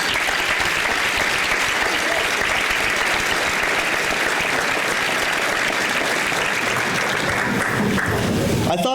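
A large crowd at a 1998 high school graduation commencement gives sustained, dense applause that holds steady at full volume throughout before tapering off at the very end.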